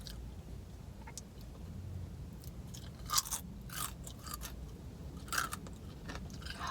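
Crunchy cream cheese rangoons from Panda Express being chewed in a car, close and steady, with a few sharper bites standing out and no talking.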